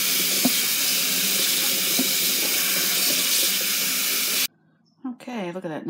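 Nopales cactus pads are rinsed under a running tap, a steady, loud hiss of water pouring for several seconds before cutting off abruptly, followed by a brief stretch of talking.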